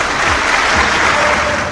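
Applause from an audience fills the whole stretch, a dense, steady wash of clapping that stays loud throughout, with no voices over it.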